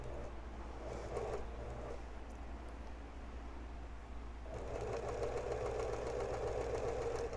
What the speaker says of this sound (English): So here I am sewing my very first strip.